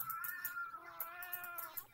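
Grumpy cat in the Roblox game Raise a Floppa gives a drawn-out, whiny meow with a wavering pitch, heard alone at moderate volume.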